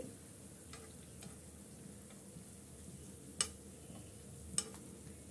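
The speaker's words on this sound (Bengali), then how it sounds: "আর এভাবে উল্টিয়ে পাল্টিয়ে আমি গোল্ডেন করে দুই পাশটাই ভেজে নিচ্ছি" Vermicelli pakora fries quietly in oil with a soft, steady sizzle, broken by a few sharp clicks of the pieces being turned, two of them louder and closer.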